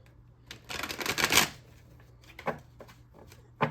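A deck of cards is riffled in one long burst of rapid flicking, followed by a few softer taps and shuffles close by.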